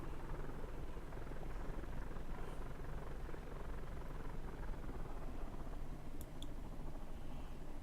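A small airplane engine drones steadily and loudly from inside the cabin while taxiing to the runway in rain, a constant propeller-driven hum with faint clicks over it.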